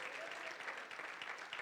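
A church congregation breaks into sustained applause, a dense even wash of many hands clapping together, heard at a distance and fairly faint, with no talk over it.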